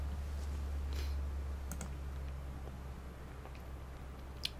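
A few sharp computer mouse clicks sound while printing PDF bookmarks as separate print jobs. They are isolated and fairly close over a steady low electrical hum, with no voices.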